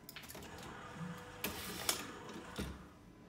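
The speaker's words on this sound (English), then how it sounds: "we're just going to apply another label here and show you where that lands." A labelling machine applies a label, giving a faint, quiet run of mechanical clicks and whirring with a few sharper ticks and knocks, without any voices.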